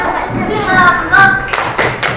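A classroom of children clapping hands together in scattered, uneven bursts, with a few sharper claps and thumps standing out and a voice briefly audible over the noise.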